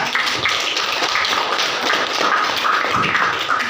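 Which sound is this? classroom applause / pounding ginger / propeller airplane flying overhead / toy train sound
classroom applause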